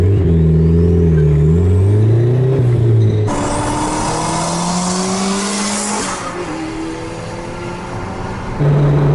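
A turbocharged, B20B-swapped 1995 Honda Civic EJ coupe accelerates hard, its engine note climbing through gears, then loud tire squeal and broadband noise as the tires scrabble for traction under boost.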